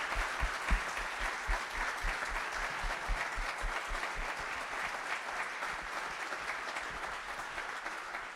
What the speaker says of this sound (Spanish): Le brindemos un aplauso.